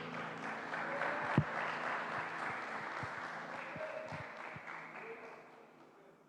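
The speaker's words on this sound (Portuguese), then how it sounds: "e vamos aplaudir o Senhor Jesus." Church congregation applauding at a Thursday worship service, a steady wash of clapping under a preacher's voice, moderately loud and continuous with a few sharper claps standing out.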